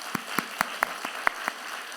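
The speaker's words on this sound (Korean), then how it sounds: "우리 격려의 박수 보내주시기" A handful of sharp, evenly spaced hand claps from a church congregation, about seven in two seconds, with quiet between them and no voices.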